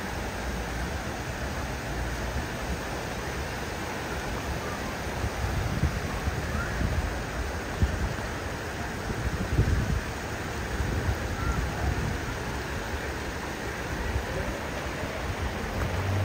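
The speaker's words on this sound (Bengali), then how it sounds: "দারুণ লাগতেছে পানির শব্দটা" Steady broadband rush of flowing water fills the air at Blue Hole Park, a natural swimming spot in Oklahoma, continuous and fairly close with a faint breezy edge and no voices.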